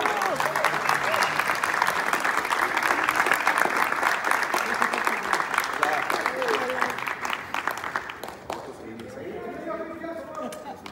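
Loud theatre audience applause during a cast presentation for the play "Perfume de Gardenias," dense sustained clapping with crowd cheering, fading and thinning near the end as voices come through.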